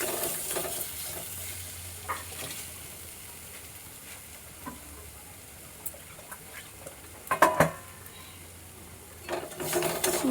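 Egg curry with chili and turmeric powder is stirred in a pan over a faint, steady sizzle, with scattered scrapes and a cluster of louder clanks toward the end.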